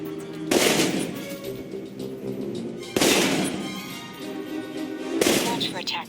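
Assault rifle gunfire in the video game Alpha Protocol, three loud bursts of sustained automatic fire spaced a few seconds apart, each trailing into a rumbling echo, close and dominant.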